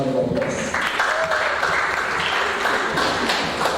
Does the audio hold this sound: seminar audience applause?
yes